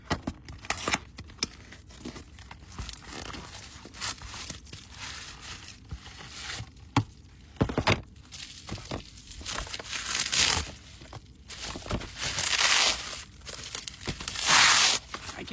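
Plastic package crinkling and tearing as it is pried open with a screw instead of scissors, close and scratchy, with bursts of crumpling and ripping over fifteen seconds and louder tearing toward the end.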